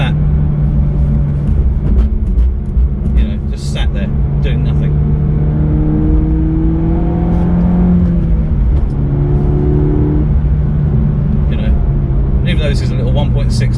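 A Peugeot RCZ with a 1.6 turbo four-cylinder engine revs and pulls while driving, a loud steady drone with rising and falling engine pitch heard from inside the car, with a voice talking over it.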